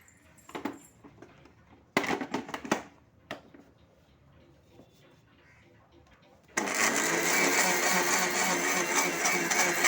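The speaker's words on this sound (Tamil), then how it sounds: "இதை இன்னொரு தடவை போட்டு அரைச்சி எடுத்துக்கலாம்." A kitchen mixer grinder whirs loudly as it grinds panchagavya lamp ingredients a second time for a finer powder. Irregular clattering handling noises come first, then the motor kicks in for a steady, dense, high-pitched grinding roar.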